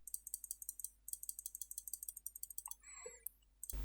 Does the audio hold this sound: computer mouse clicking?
yes